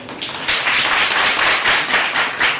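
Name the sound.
applause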